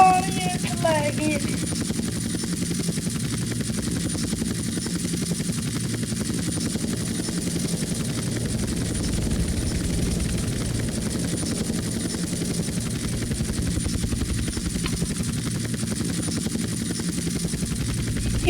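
A helicopter in the video game GTA Vice City drones with a loud, continuous rotor chop and engine whine that holds steady throughout, briefly joined at the start by higher-pitched game sounds.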